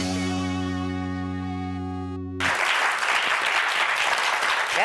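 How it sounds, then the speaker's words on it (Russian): Studio audience applause bursts in after a sustained musical chord cuts off, a dense, steady wash of many hands clapping that fills the rest of the clip at close range. "просто аплодисменты"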